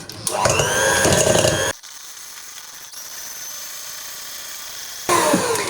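Electric hand mixer whipping labneh, cream cheese and powdered sugar for a no-bake cheesecake, a loud buzzing whir near the start that cuts off, leaving a quiet stretch, then starts up loudly again at the end.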